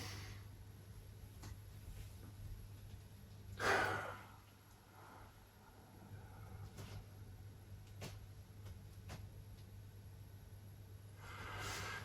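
Slow breathing in and out during a 15-minute Yiquan standing meditation (zhuang), one soft audible breath swelling around the fourth second and faint breaths near the end, over a steady low hum in a quiet room.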